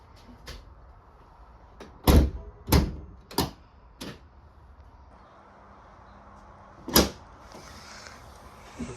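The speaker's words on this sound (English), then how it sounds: "you're going to open your hood latch" Several sharp mechanical clicks and clunks as the hood latch of a BMW X5 G05 is pulled and released, spaced irregularly with one louder snap near the end in a quiet space.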